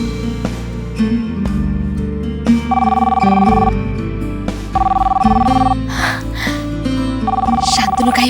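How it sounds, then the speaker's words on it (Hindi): A telephone rings in repeated bursts, a steady electronic trill that comes three times over a musical background. "शांतनु का ही फोन होगा।"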